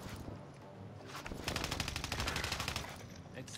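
Rapid automatic gunfire rattles out in a dense, sustained burst during a Call of Duty Warzone match, loud and close after a quieter lead-in, with a few scattered shots trailing off at the end.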